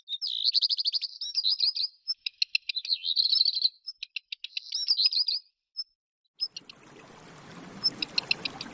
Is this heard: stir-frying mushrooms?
no